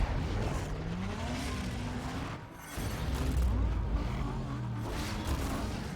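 A car engine revs and races in Need for Speed: Most Wanted (2005), rising and falling pitch with tire noise as the car accelerates, a steady mid-level roar lasting throughout.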